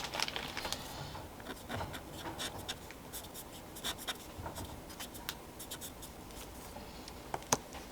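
Soft, steady scratching and rubbing of vine charcoal across paper, with scattered sharper strokes and taps, fairly close and quiet.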